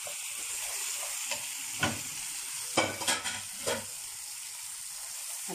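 Food fries in a pan and is stirred, a steady bright sizzle with a few soft scraping and clattering strokes of the utensil scattered through it, close and alone.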